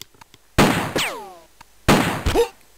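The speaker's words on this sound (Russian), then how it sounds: "берета хороша. Позволяет сделать 4-5 выстрелов в заход." Beretta pistol gunshots in the video game Jagged Alliance, two loud sharp blasts about a second apart, each followed by a ringing, descending whine and a short clatter, with quiet gaps between.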